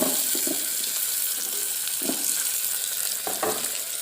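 Tomatoes and green chillies dropped into onions sizzling in a clay pot for Thanjavur-style fish kulambu, a loud continuous frying hiss with a few soft stirring knocks, close and without talk.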